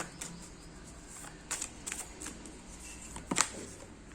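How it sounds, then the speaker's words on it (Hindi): Two tarot cards are slid out of the deck, making a few soft, brief papery rustles and a sharper snap near the end, quiet and close, with no speech. "2 कार्ड्स निकालूंगी।"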